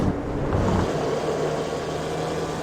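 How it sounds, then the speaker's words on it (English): A racing engine from a sim racing game at Okayama drones steadily at high revs, a dense continuous mechanical roar with a slight drop in pitch partway through. "I don't know if you noticed the engine sound."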